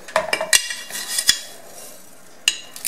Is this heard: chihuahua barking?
no